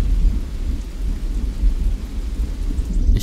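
Steady heavy rain and rolling thunder outside a mountain hut, a dense, loud, continuous roar with deep low rumble throughout and no talk.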